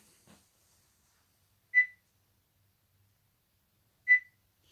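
Two short, clear electronic beeps from a device in a video game, spaced about two seconds apart and otherwise surrounded by near silence.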